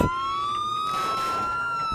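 A police car siren in the Vehicle Simulator video game wails loudly and steadily for the whole stretch, a single sustained tone that rises and falls gently with no talking over it.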